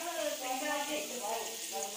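Potatoes fry in lard in a pan, giving a continuous crackling sizzle, fairly close and steady, with someone talking over it.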